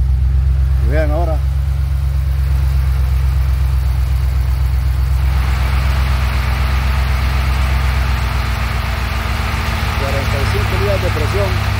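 A car engine idles steadily and loudly after a hard start, with a constant low rumble, a slight shift in tone partway through and someone talking over it.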